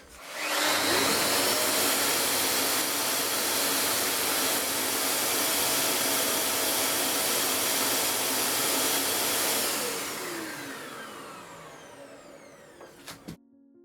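A shop vac hooked to a running sander during a console table makeover roars on loud and steady for about ten seconds, then winds down gradually as the sander stops.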